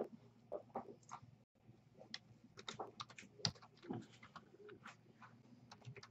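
Typing on a computer keyboard at a desk, soft irregular key clicks in short bursts at close range, mixed with pigeon-like cooing and bird calls in the background.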